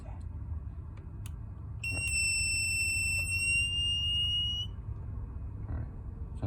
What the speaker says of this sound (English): I'm not familiar with this box and why it's beeping though